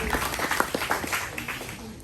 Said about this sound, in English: Kicker fed us, so they deserve a round of applause